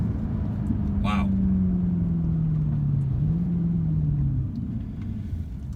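A 2013 Mercedes C63 AMG accelerates with a steady, rising engine drone heard from inside, a brief higher whine cutting through early on.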